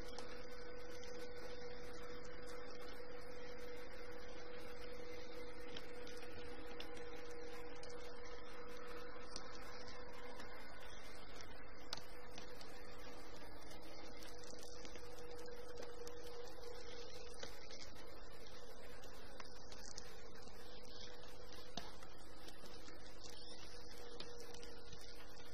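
A motorized roller shutter rolls up with a steady, faint mechanical hum and drone, continuous and even throughout with light ticking, no voices.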